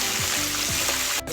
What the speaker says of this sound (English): here we have the fish frying